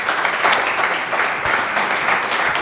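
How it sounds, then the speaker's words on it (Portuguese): A congregation applauds at a church seminar, a steady, dense wash of clapping from many hands filling the room without a pause. "Aplauda Jesus."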